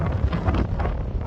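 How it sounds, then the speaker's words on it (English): Strong wind buffets the microphone on an exposed hilltop between Rannoch and Corrour, a loud, close, continuous low roar with gusty fluctuations. "Oh, it is so windy."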